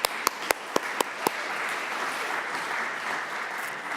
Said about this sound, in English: So let's give them a round of applause right now.